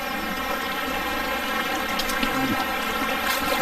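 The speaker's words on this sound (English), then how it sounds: "This is a waterfall that I've got to negotiate." Rushing water of a waterfall gushing down over slippery rocks among ferns and mosses, a steady dense roar that stays loud and continuous throughout.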